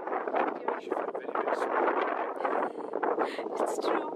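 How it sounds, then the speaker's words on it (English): Wind buffets the microphone in steady, rumbling gusts at Luxor Temple in Egypt, loud and close throughout. "It's a bit windy in here."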